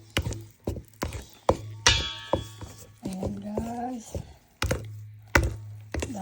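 Banana bread batter made with brown sugar and vanilla extract is stirred in a bowl, giving a series of close, sharp knocks and thunks in an uneven rhythm, with a short stretch of a person talking in the middle.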